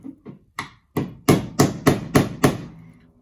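A part is hammered into place on a 1978 CJ7 undergoing a diesel swap: about nine close, sharp metallic taps, soft at first and then louder, in a fairly even rhythm.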